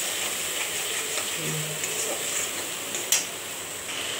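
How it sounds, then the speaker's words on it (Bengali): Salt and turmeric being sautéed in a pan for a boal fish curry, a steady, even frying hiss with faint stirring throughout and one sharp utensil tap near the end. "এবার ভালো করে কষাবো"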